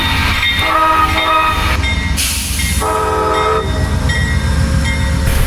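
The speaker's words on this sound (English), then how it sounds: "Now, as Amtrak 130 departs the station" An Amtrak passenger train rumbles steadily as it pulls away from the station in Ashland, Virginia, with loud blasts of its horn sounding over the continuous rolling noise.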